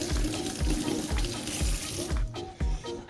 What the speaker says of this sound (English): Give my hand a quick wash.